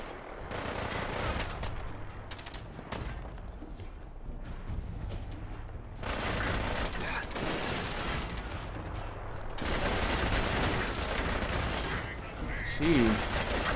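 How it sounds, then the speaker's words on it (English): Enemy gunfire in Fallout 4 crackles as dense, continuous bursts of shooting and explosions throughout, layered with game music and effects, with no voices heard. "Who is shooting at me?"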